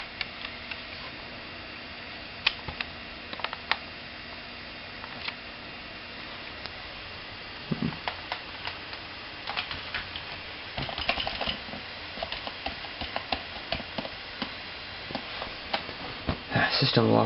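Someone types on a computer keyboard beside an old Pentium III machine, producing scattered light clicks and taps under a steady background hiss, with a denser burst of keystrokes near the end.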